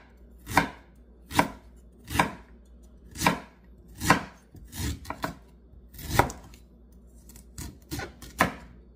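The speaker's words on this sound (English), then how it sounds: "So you have to cut the ginger." Ginger being cut with a knife on a board, about a dozen sharp, distinct chops at an uneven rhythm, close and alone.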